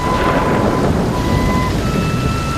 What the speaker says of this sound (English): Despite the pelting rain